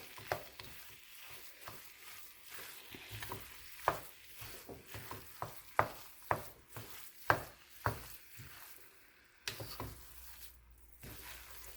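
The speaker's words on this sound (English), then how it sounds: "All right, we're gonna stir this in." Spoon stirring agave syrup into a meatless dish in a pan, with a series of sharp scraping clacks against the pan over a soft sizzle, fairly close and steady, ending in quieter handling.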